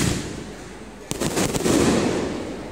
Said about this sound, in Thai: การจุดพลุทั้งลูกใหญ่เล็กและก็จุดยาวๆเลยครับ ไม่หยุดเลยครับตอนนี้